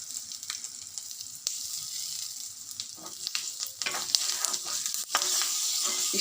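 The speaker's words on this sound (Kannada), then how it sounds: "ನಾನು ಒಗ್ಗರಣೆಗೆ ಎಳ್ಳು ಹಾಕ್ತಾಯಿದ್ದೀನಿ" Sesame seeds crackle and sizzle in hot oil for a tempering with the stove switched off, a steady close hiss broken by sharp pops and the scrape of stirring, with no talking.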